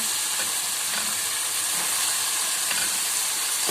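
Eggplant frying in a hot pan, a steady, loud, close sizzle that holds evenly for a few seconds with no voices.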